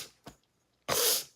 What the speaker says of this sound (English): I'll probably be coughing through this reflection.